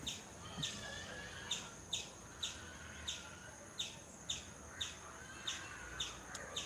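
Several crows circling overhead a pigeon chick give short, sharp calls that repeat at a steady, regular pace, moderately distant against a faint outdoor background with no talking.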